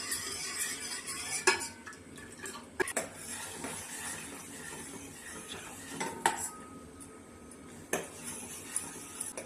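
A spoon scrapes and clinks against a metal pot of heating milk, with occasional sharper knocks between quieter stirring sounds, close and fairly soft.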